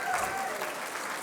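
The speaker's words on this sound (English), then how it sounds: "I think, let's give Tracy a round of applause" An audience at the Global Wellness Summit 2019 student pitch competition gives a strong, continuous round of applause that fills the room evenly from start to finish.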